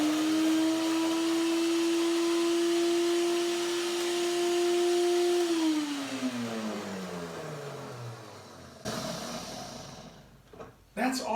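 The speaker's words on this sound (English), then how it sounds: "you just blend for a couple of seconds and you have enough" A blender whirs steadily as it grinds less than half a cup of walnuts into walnut meal, its motor pitch sliding down as it spins to a stop, followed by a short clatter.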